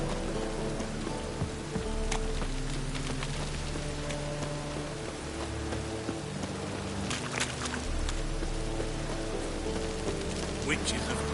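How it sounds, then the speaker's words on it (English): Rain conjured by witches in a PS4 video game falls as a steady, hissing downpour with pattering drops, heard throughout at a moderate, even level. "Witches have conjured rain."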